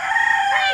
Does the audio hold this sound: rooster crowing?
yes